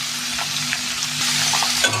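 Bitter gourd slices with onion, dried chilli, salt and turmeric frying in oil in a pan, a steady close sizzle with scraping stir strokes throughout, no voices.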